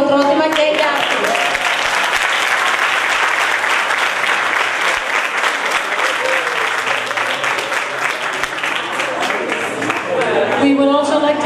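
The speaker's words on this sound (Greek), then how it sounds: "Ένα μεγάλο χειροκρότημα και για αυτούς." An audience at a school closing ceremony applauds loudly and continuously for several seconds, a dense wash of clapping with voices faintly mixed in before it begins to fade at the end.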